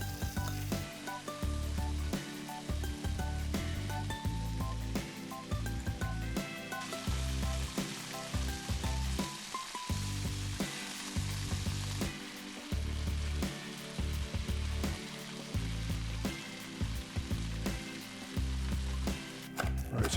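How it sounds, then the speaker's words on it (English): Shrimp and chicken Szechuan stir fry sizzles loudly and steadily in a hot pan as sauce is added, a dense continuous hiss with occasional stirring scrapes and no talking. "to finish the stir fry, all I wanna do now is just take and add that lovely sauce that we made right into here"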